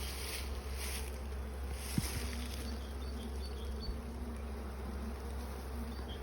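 A honeybee swarm buzzes steadily and densely as it is transferred into a hive on frames with foundation wax, a continuous close drone with no talking.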